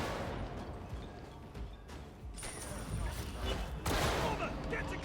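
Gunfire from a sniper in the video game Darktide rings out in loud, broadband bursts and volleys throughout, with voices talking over the shooting.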